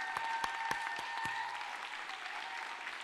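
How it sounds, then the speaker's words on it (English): Audience applause for pageant contestants and their attendants on stage, steady, moderately distant clapping from a crowd with a few sharper individual claps standing out early on. "Let's give one final round of applause for everyone on stage."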